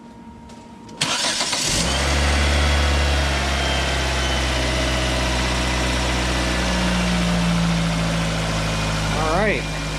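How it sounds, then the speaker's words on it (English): Nissan engine starting and settling into a steady, loud idle after a valve cover gasket replacement, heard up close with a brief voice near the end. "So my wife fired it up for me so I could actually look at it and watch it."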